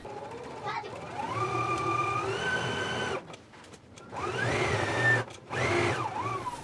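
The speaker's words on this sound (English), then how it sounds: "take it to the sewing machine and stitch down both of your side seams now" A sewing machine stitches the side seams of a utility jacket, whirring in steady bursts, its motor pitch rising and falling, pausing briefly before starting again; close and fairly loud.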